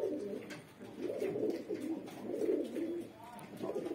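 Desi kaldum pigeons coo in soft, rolling, repeated phrases close by, a steady low burbling that rises and falls over a few seconds.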